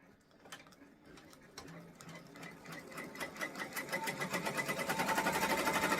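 A home embroidery machine runs a stitch-out on a hooped sweatshirt, its needle chattering in a steady rhythm that speeds up and grows louder over the seconds, with faint bird cooing in the background.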